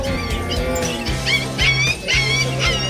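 Small Pomeranian puppies, about seven weeks old, barking and yipping at a busy pet market in Bulacan, with high-pitched yaps repeating close by over a dense backdrop of other animals and market noise.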